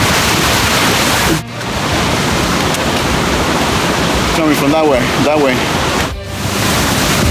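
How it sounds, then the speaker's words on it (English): A waterfall on the hike from Vernal Falls to Nevada Falls in Yosemite gives a loud, constant rushing roar that fills the whole scene, with someone talking briefly over it. "And right there is the waterfall."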